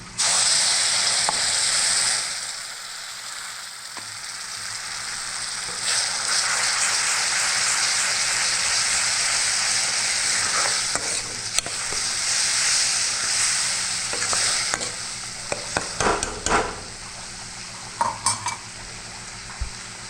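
Ground vegetable paste sizzles and spatters loudly in a hot pan as it is stirred, a steady hiss with clinks of a spoon against the pan and sharper pops near the end.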